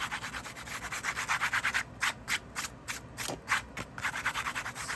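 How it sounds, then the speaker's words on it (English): Dried salt scraped off a watercolor painting by hand, a close series of rhythmic rasping strokes, fast and even at first, then slower separate scrapes before the steady rubbing resumes, no voices. "let's go ahead and scrape the salt off."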